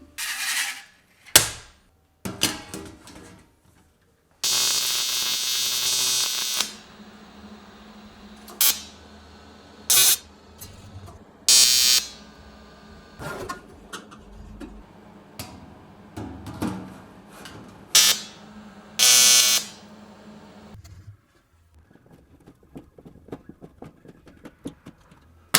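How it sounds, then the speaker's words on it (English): Thin sheet-metal parts for a belt grinder's dust collection and spark shields being welded in short crackling bursts of a second or so, separated by quiet pauses, with a couple of longer passes; no talking. "it's time for welding"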